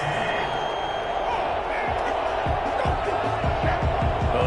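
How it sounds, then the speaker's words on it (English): Large stadium crowd at an NFL game between the Tampa Bay Buccaneers and Minnesota Vikings voicing displeasure at a penalty flag, a steady roaring wash of many voices throughout with scattered thuds, loud and continuous. "Well, the crowd doesn't like that."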